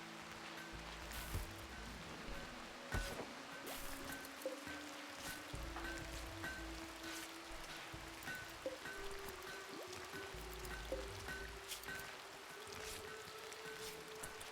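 Steady rain in the Rimworld video game, a continuous soft patter and trickle with a faint repeating tone, with no talking.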